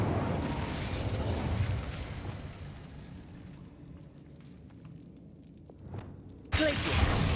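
A fire spell cast in the Hogwarts Legacy video game gives a loud rushing, roaring burst that slowly dies away, a small pop near the end, then a sudden sharp loud blast.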